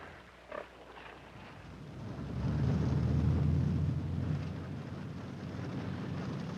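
Hogs on a family farm in winter, heard as a low, rumbling mass of grunts that swells after a couple of seconds and then holds steady at moderate loudness, with no talk.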